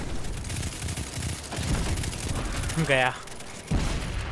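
Rapid bursts of gunfire from a vehicle in the video game Destiny 2 ring out repeatedly through the moment, mixed with other game effects while someone talks excitedly over them.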